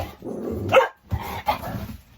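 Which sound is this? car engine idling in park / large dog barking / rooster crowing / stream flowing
large dog barking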